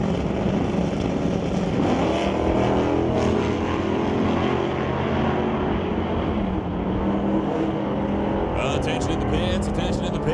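A 1970s Chevelle and a Bel Air drag race at a strip, loud roaring engines in a continuous blast, with an announcer talking over the noise.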